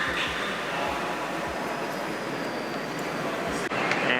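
Train rumbling at Grand Central Station in New York, a loud continuous low roar with rhythmic clacks of wheels over rail joints, heard up close throughout the station noise.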